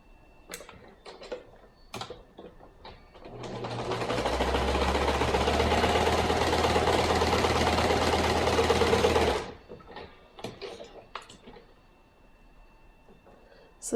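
A sewing machine stitches a seam on a handmade cow head costume piece, running steadily for about six seconds, loud and close, with brief handling clicks and rustles before and after.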